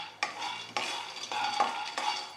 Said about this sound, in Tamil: இப்போ நம்ம எடுத்து வச்ச இந்த கடலைப்பருப்பு இருக்குல்ல, இதை போட்டு வறுத்துக்கலாம்.